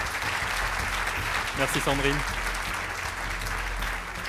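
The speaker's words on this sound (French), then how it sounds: "Merci de les applaudir chaleureusement." An audience at an awards ceremony applauds four young professionals, a steady dense clapping throughout, with a brief spoken word in the middle.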